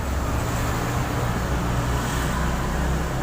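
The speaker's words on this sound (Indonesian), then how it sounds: "ada mobil lagi, ramai banget jalannya" Cars stream past on a busy road, a continuous loud roar of traffic with a low engine rumble and broadband tyre noise that never lets up.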